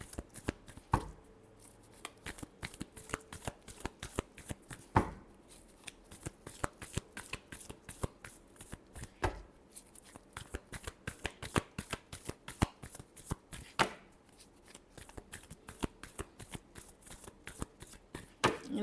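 Tarot cards shuffled by hand in a steady run of crisp riffling and flicking bursts, with brief pauses between shuffles, close and fairly quiet, with no talking.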